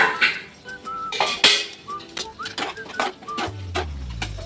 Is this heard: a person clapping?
no